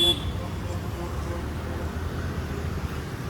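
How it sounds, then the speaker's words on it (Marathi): Busy city traffic rumbles in Mumbai, a steady low drone of cars and buses with faint distant horns, while people talk nearby. "पण आता पण केवढा ट्रॅफिक आहे मुंबईला"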